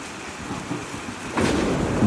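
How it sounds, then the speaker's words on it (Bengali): Rain and thunder as an audio drama effect: steady rainfall hiss with a deep rumble swelling louder in the last half, no voices. "বৃষ্টির ঝমঝম শব্দের মাঝে মিনতির ফিসফিসে কথাগুলো যেন শান্তভাবেই মিলিয়ে গেল।"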